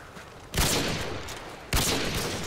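Suppressed gunshots from Call of Duty: Modern Warfare 2 on the Rust map: two sharp, loud reports about a second apart. Each shot is followed by a lingering noisy tail.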